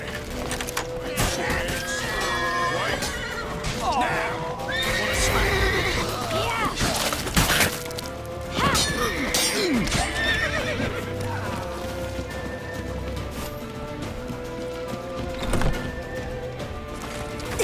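Horses neigh and whinny repeatedly over clopping hooves in the video game The Witcher 3: Wild Hunt, with voices and an action-game soundscape layered underneath.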